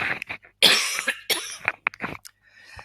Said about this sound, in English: I've got a cough coming.